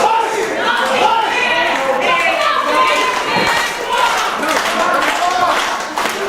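Live crowd at an indoor independent wrestling show in Mount Holly, a steady roar of cheering, shouting and scattered clapping that stays loud and continuous throughout, with no single voice standing out.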